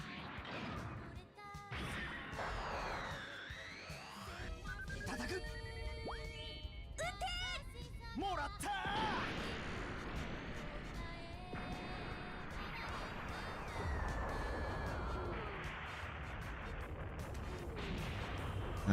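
Buster Launcher attack in Super Robot Wars 30, a continuous run of booming artillery-like blasts, crashes and whooshing energy sweeps layered with game effects and background music.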